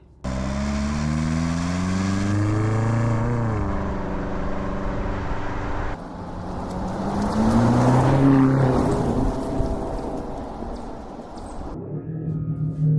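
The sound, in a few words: Range Rover Sport SV 4.4 V8 engine revving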